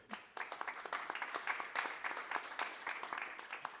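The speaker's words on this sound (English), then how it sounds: "An applause for Maurice as well." An audience at a talk on city planning applauds a speaker, a soft, steady patter of many hands at a distance, quiet throughout.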